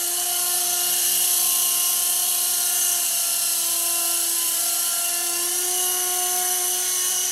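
A TX remote-control helicopter hovers in a steady, continuous high-pitched whine of small rotors and motor, loud and close, holding an even pitch throughout with no talking.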